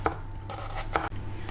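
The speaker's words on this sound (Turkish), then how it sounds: "Bir tam soğan, bir de yarım soğanımı yemeklik olarak doğrayacağım." A knife chops a whole onion and a half onion for cooking on a board, giving a few sharp, isolated strikes over steady kitchen background hum.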